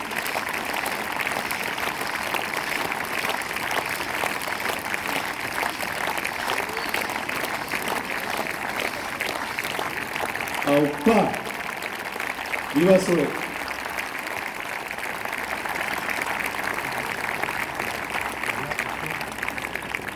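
An outdoor crowd applauds Basque strongman performers at the fronton in Sare, steady dense clapping running throughout with a voice calling out briefly over it.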